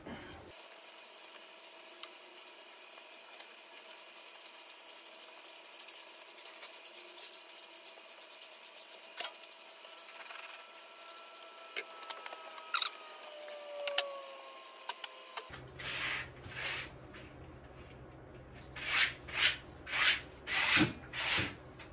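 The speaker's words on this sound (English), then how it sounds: "Therapeutic sweeping while the epoxy dries." A broom sweeps a workshop floor in the cold while epoxy cures on an elm platter, with soft, steady brushing through most of the stretch and a run of louder, rhythmic swishes near the end.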